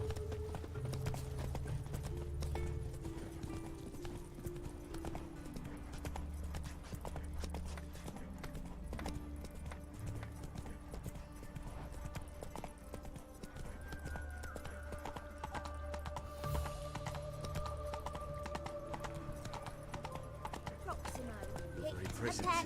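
A horse gallops in The Witcher 3, its steady rhythmic hoofbeats continuous and fairly loud under game music, with a spoken voice during the ride.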